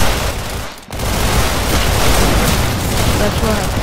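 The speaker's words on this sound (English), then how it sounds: "Here's a trick when using the minigun. Before you approach someone, you just shoot it." A minigun fires in the Roblox game Arsenal, a loud, dense, continuous rattle of rapid shots that pauses for a split second and then resumes without a break.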